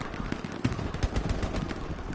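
Gunfire in the World War II shooter Hell Let Loose: a couple of sharp rifle shots crack out amid a dense, rumbling battlefield din of distant fire and explosions, with no voices over it.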